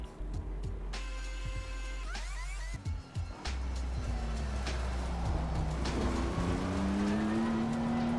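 A race car laps the Indianapolis circuit in Assetto Corsa Competizione. Its engine drones loud and steady, with quick gear shifts and pitch sweeps rising and falling through the bumpy corners, and no voices are heard.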